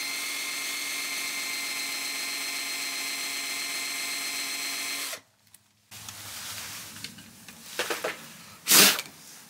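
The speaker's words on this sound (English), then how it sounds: "Now we're going to drop the Forstner bit in. We're going to go about halfway down." Forstner bit drilling into the wooden body of a license plate guitar: a steady, loud, close motor whine for about five seconds that cuts off, then quiet handling noises and a sharp knock near the end.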